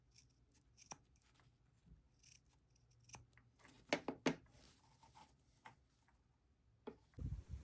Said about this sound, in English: Trim away any excess elastic from the seam allowance.